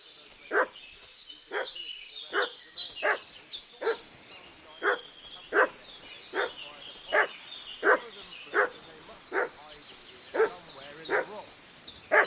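A dog in the Kingdom Come: Deliverance II video game barks in a steady series of about fifteen loud, sharp barks spaced roughly evenly, with faint birdsong and background game ambience beneath.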